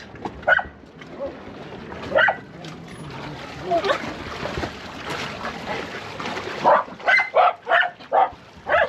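A dog barks repeatedly aboard a sailboat at sea, with a run of quick, loud barks toward the end and softer yips earlier, against splashy outdoor background noise.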